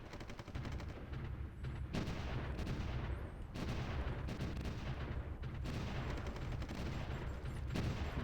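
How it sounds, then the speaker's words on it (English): Artillery fire from Supreme Ruler: The Great War, with dense rumbling bursts and booms in repeated waves over a constant roar of battle, loud and continuous. "artillery is raining down on these guys, which is a good sign"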